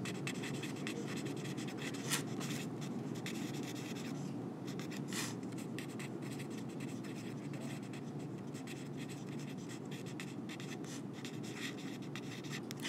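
A pen scratching steadily on a surface while a diagram is drawn during a biology lecture, a quiet continuous writing rasp with small strokes and taps and no talking.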